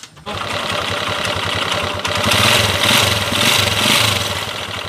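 A freshly rebuilt motorcycle engine runs steadily after repair in a workshop, with a fast, even mechanical chatter and ticking throughout, revving up a little louder partway through and staying close and prominent.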